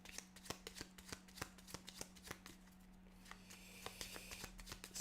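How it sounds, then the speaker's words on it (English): Cards for the board game Friday are shuffled up close in a quiet room, with a rapid series of crisp riffling snaps and flutters in irregular bursts. "So give them a good shuffle."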